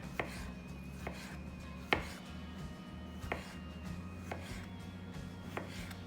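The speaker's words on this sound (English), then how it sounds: "Do a few slices of cucumber." A knife slicing cucumber on a cutting board for mushroom shawarma toppings: several crisp, separate chops at an uneven pace, close and fairly quiet, with no speech.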